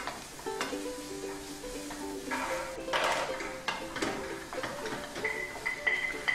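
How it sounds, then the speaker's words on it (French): Onions browning in hot oil in a frying pan sizzle steadily while a utensil stirs and scrapes against the pan, with clinks of cookware scattered throughout at close range. "On y ajoute les oignons pour les faire dorer pendant 2 ou 3 minutes en remuant."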